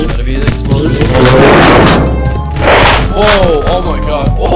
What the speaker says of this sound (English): Gotta be the explosion.